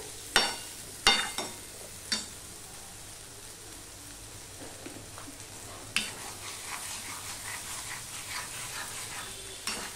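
Prawn curry with yogurt being stirred and sautéed in a pan, with a few sharp spoon scrapes and knocks near the start and a steady soft sizzle running underneath throughout.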